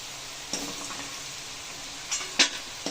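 Potato pieces frying in oil in a home kitchen, a soft steady sizzle with a few sharp clinks of a utensil against the pan.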